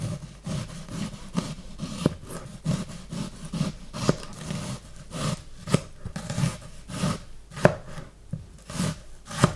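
An onion is chopped with a knife while preparing a savory tomato tart, giving a steady run of close, crisp blade strikes against a board, repeated at an even rhythm throughout with no talking.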